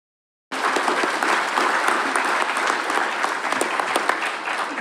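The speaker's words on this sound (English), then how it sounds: "I appreciate that applause" After a brief silence, an audience at the 2024 WPS Symposium defense and security allyship panel breaks into dense, sustained applause that stays loud and even for several seconds.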